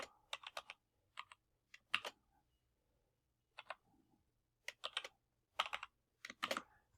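A password is typed on a computer keyboard, with close, crisp key clicks coming in quick irregular bursts separated by short pauses, in a quiet room with no talking.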